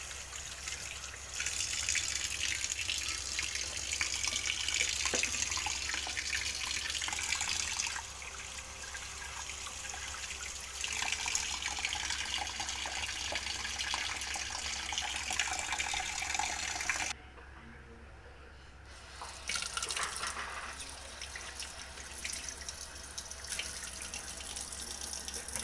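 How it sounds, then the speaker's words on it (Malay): Raw food ingredients are washed under a running tap, with steady flowing water splashing into a sink for most of the stretch, a brief quieter break, then the stream resuming close by. "dibasuh dengan menggunakan air yang mengalir."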